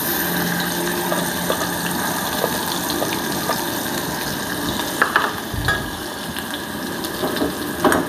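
Ground paste of fried ginger, garlic and onion sizzles steadily in hot oil with cumin seeds for a masala bombil dish, a dense continuous crackle with a few stirring clinks and scrapes near the end.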